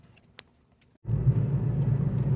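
Low rumble of a car driving, heard from inside the cabin, starting abruptly after a second of near silence with a few faint clicks and then holding steady and moderately loud.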